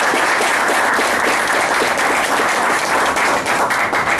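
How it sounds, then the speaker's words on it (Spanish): Loud, steady applause from a press conference audience for the baseball association, a dense continuous patter of many hands filling the whole stretch without a break. "Leroy, un fuerte aplauso para Leroy Núñez."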